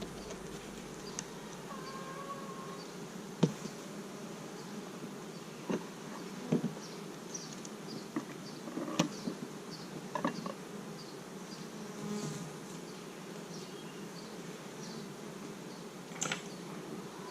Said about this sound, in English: They are just real gentle bees.